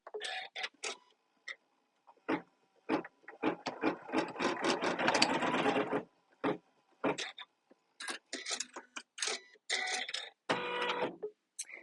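A sewing machine stitches down the seam of a circle zipper pouch in short start-stop bursts, with one longer steady run of stitching in the middle, heard up close between pauses.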